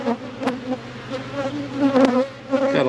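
Honey bees buzz close by during an inspection of a new hive, a wavering drone that swells and dips as individual bees pass near.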